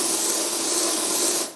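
A single continuous spray of deodorant from an aerosol can, a close, loud, steady hiss lasting about a second and a half before cutting off.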